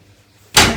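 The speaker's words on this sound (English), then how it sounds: "This is the main door into the room." A hotel room's main entrance door shuts with one sudden, loud thud close by after a brief quiet lull, the impact fading slowly over the next few tenths of a second.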